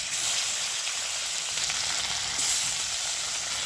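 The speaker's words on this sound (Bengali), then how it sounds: "তো কাছে মাছগুলো ভাজা হতে থাক" Pieces of fish fry in hot oil in a wok for a spicy Bengali fish dish, producing a dense, steady crackling sizzle that holds at an even level throughout, close up and with no talking.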